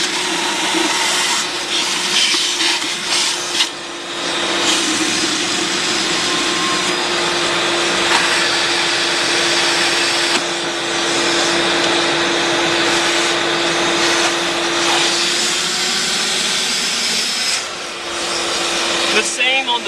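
A shop vacuum runs continuously as it sucks water out of inground pool lines during pool closing, a loud steady whine with gurgling, slurping surges and brief dips where the nozzle shifts.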